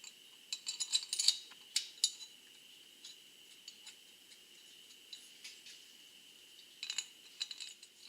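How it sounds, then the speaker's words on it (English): Small metal bolts are being threaded and started by hand on a Honda 400EX top end during a rebuild, giving faint, sparse clicks and light metallic taps in short clusters over a quiet background. "Now I'm just going to try to get some bolts started."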